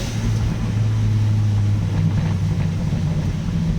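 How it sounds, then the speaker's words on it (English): A BMW 1 Series fitted with a hybrid turbo and downpipe runs with light revs, heard from up close with the windows open as a loud, steady low engine drone whose pitch shifts partway through. "Little revs, windows open."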